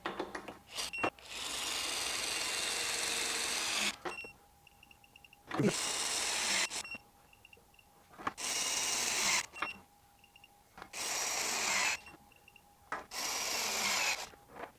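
Cordless power tool on a 4.0 battery loosening a bolt torqued to 200 foot-pounds: five loud, harsh hammering bursts of about one to three seconds each, separated by short quiet pauses, close up.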